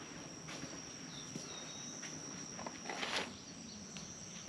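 Faint crickets chirping inside a garden high tunnel, a thin steady high trill carrying through a quiet, still setting with a few soft scattered noises and no talking.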